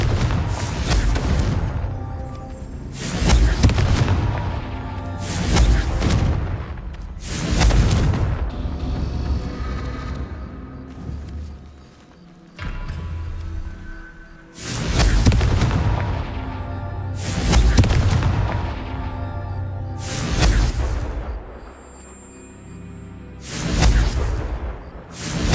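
Repeated Confringo spell explosions in the Hogwarts Legacy video game, a string of loud, booming fiery blasts arriving every few seconds, each swelling and rumbling away before the next.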